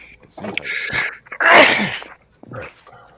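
A single loud, breathy sneeze bursts out close up, with bits of speech just before and after it.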